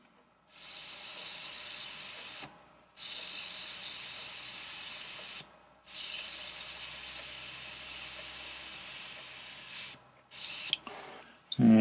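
Iwata HP-CS Eclipse airbrush spraying paint with its needle guard removed, giving four bursts of sharp airy hiss separated by brief silent pauses, close and loud.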